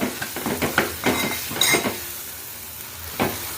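Gongura leaves frying with onions in a pan, with soft sizzling under repeated scraping and clinking of a spoon against the pan, close by and without talk.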